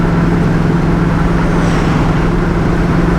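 A 1964 Pontiac GTO accelerates at half throttle, giving a loud, steady, close engine roar with a deep low rumble that holds evenly throughout, with no talking.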